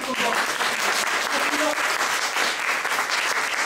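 Warm applause from a lecture audience honoring their teacher, with continuous, even clapping from many hands at a steady level throughout and no speech over it.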